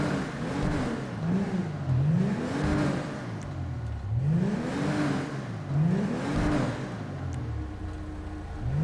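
An Albany Cavalcade XL engine in GTA Online revs repeatedly, its pitch rising and falling in steady waves, loud and close with a constant whirring drone underneath.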